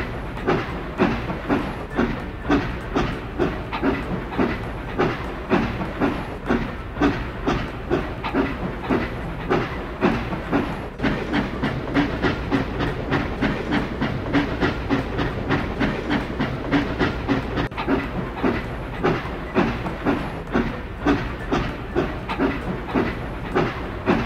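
A train in a kids' railway video game rolls steadily along with a continuous rhythmic clickety-clack and a soft hiss, alone and at an even level throughout.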